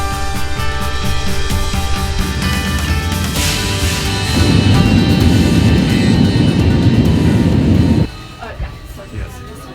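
Airplane flight noise, a loud steady engine roar and rushing drone that swells midway and then drops off sharply, with a voice speaking over it.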